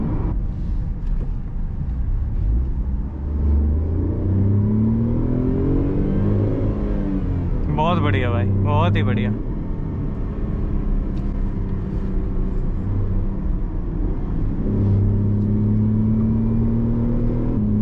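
A Tata Tiago i-CNG with an AMT gearbox accelerates hard, its engine note rising in pitch, dropping with quick downshifts and climbing again, loud and close from inside the cabin, with brief speech midway.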